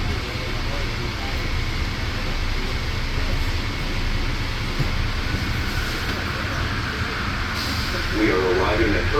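Steady rumbling ride inside the JFK Airport AirTrain, a small automated train, a constant low roar of wheels and motor with faint hiss throughout.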